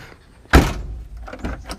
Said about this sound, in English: the real test is to shut it and see if it opens back up